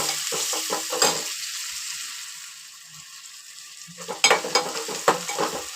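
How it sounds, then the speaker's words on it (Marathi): Cumin, onion and garlic fry in a hot pan for a taro-leaf curry: a steady hiss of sizzling oil, with rattling stirs and spoon scrapes at the start and again near the end, close and fairly loud. "जिरं कांदा घातला लसूण चांगली भाजली पाहिजे"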